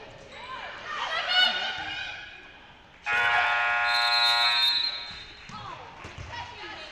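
At a girls' high school basketball game, a loud sustained end-of-quarter buzzer blares for about two seconds through gym noise and ball bounces, with an announcer talking before and after it.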